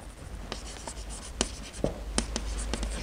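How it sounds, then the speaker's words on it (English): Chalk or marker strokes on a board during a mathematics lecture, heard as a run of brief scratchy taps and swipes at an irregular pace over a faint room hum, with no speech. "let me write it here"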